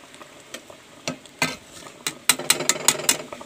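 Potatoes fry in a home kitchen pan under a soft sizzle, punctuated by sharp spatula clicks and scrapes that grow quicker and louder toward the end.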